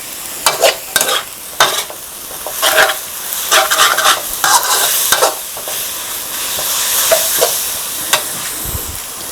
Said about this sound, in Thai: ผัดนะครับ จนกว่าบุนเส้นของเราจะสุกเลยครับ